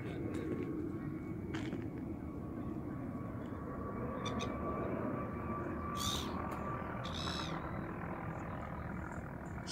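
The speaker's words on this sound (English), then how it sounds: "So I wonder where the helicopter's going." A distant helicopter drones continuously with low rumbling and a faint rotor hum, steady throughout, with a few small birdlike chirps near the end.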